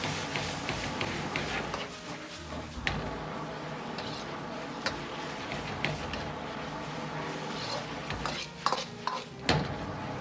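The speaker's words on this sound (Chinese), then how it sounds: "把酱汁炒香后，接着倒入面条翻炒均匀" Noodles being stir-fried with soy-based sauce in a wok for hand-pulled noodle dish, with a steady sizzle and continuous scraping and tossing of the spatula, some sharper metallic knocks near the end.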